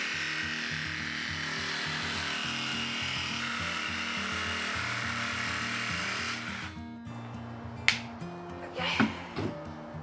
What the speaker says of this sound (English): I'm sanding off some rough spots and rounding the corners.